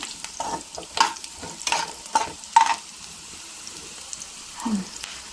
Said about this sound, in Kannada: ಈರುಳ್ಳಿ ಹಾಗೆ ಬೆಳ್ಳುಳ್ಳಿನ ಚೆನ್ನಾಗಿ ಹುರ್ಕೊಳ್ತಾ ಇದ್ದಾರೆ ಎಣ್ಣೆಯಲ್ಲಿ